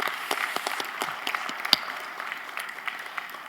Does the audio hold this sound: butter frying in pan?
no